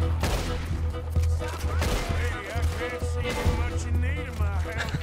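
Repeater rifle shots in Red Dead Redemption 2, a string of sharp cracks fired in quick succession with booming tails, mixed with other game sounds and someone talking over them.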